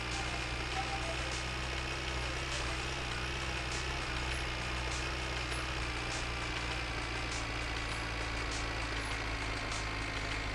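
A tractor engine in the video game My Winter Car runs at a steady idle throughout, a constant low droning rumble heard close and alone.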